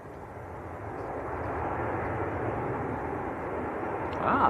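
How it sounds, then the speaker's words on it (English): Maltese-registered Ryanair Boeing 737-800 landing at an airport, a continuous jet roar that builds gradually and stays loud and fairly close, swelling a little more at the end. "Ryanair just about to touch down in from Katowice, a Maltese registered 737-800."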